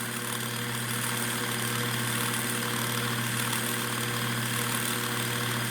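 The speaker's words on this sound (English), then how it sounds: "It's pretty quick on this machine to wind the bobbin." Juki TL2010Q sewing machine winding a bobbin, a steady close motor whir with a constant hum and fine high-pitched buzz, running evenly without pause or talk.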